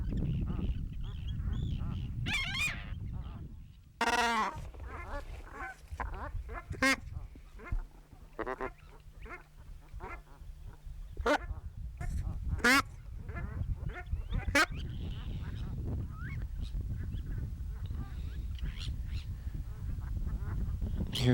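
Brant geese calling across a dense nesting colony at Tutakoke, with gulls and turnstones mixed in, giving a steady chorus of honks and cackles with sharp cries breaking through, close and loud throughout.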